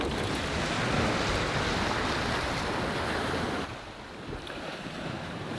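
A sailboat under sail at sea, crossing from Madeira toward the Portuguese coast, with steady rushing wind and wave wash that stays loud and continuous, easing slightly toward the end.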